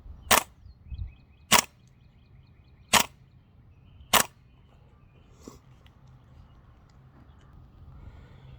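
Four sharp cracks from a Tokyo Marui M4 CQB-R gas blowback airsoft rifle, fired one at a time about a second apart outdoors in cold weather, each loud and crisp against a quiet background.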